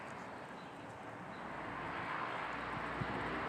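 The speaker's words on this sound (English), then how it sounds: "we just had a jet aircraft that came flying on by" A jet aircraft flies by overhead, a broad, steady roar that swells gradually and stays fairly faint and distant with wind in the background.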